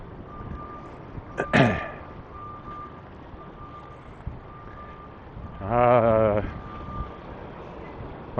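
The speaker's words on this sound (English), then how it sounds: "Heavy equipment backing up." A steady, fairly distant heavy equipment reversing alarm beeps at an even pace over a low rumble of traffic, with a louder engine or brake noise passing through.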